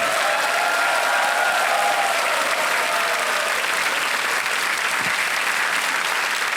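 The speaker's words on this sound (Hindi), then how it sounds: "तालियां बजती हैं इनको" Studio audience applauding for a contestant on the KBC game show, a steady dense wash of clapping that fills the whole stretch at strong level with no voices over it.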